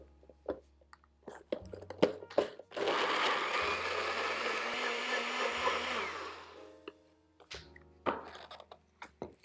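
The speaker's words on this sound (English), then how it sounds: "we're just going to blend this until the dates are completely pulverized" A blender pulverizing dates with vanilla extract runs for about four seconds in a loud, steady whir, framed by clicks, knocks and small handling sounds before and after.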